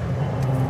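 A safety car engine roars on a race track under hard acceleration, a loud, close, continuous low drone with no one speaking.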